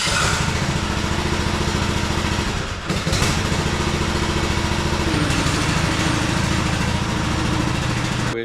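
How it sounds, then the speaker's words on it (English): A zero-turn riding mower's engine runs steadily and loud throughout, a close, continuous mechanical drone with a brief dip midway before resuming. "And I have my riding mower."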